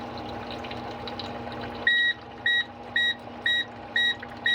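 A liquid level indicator clipped to a cup sounds a series of short, evenly spaced electronic beeps as water pours in, five or six clear pulses over a faint running trickle, with no talking.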